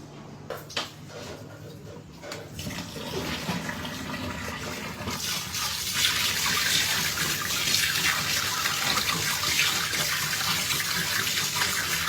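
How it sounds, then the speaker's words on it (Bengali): Running tap water rinses fresh chhana, a steady close gush that swells louder and fuller partway through as the stream hits the curds and a cloth-lined strainer. "ছানাটা ধুয়ে নিয়ে আসবো"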